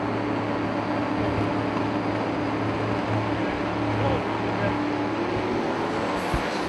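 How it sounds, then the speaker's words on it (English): Dense, roaring rush from a drag strip as both drag racing cars build boost, with precision turbos spooling up under loud, continuous engine noise and a steady droning tone throughout. "Listen to those precision turbos spooling up"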